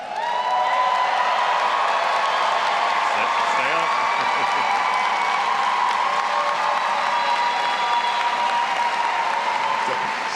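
A large graduation audience applauds and cheers as Fuqua Scholars rise to be recognized, with steady, dense clapping and scattered whoops filling the hall for about ten seconds.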